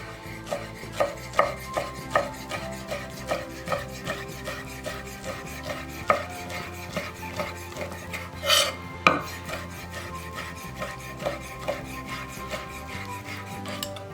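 Bacon sliced into lardon strips with a knife on a cutting board, a steady series of crisp knocks against the board with a rasping slice between strokes and one brighter clatter partway through.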